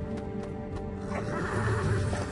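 A horse whinnies in LEGO The Lord of the Rings video game over a steady, busy game background, the call rising and trailing off across a couple of seconds.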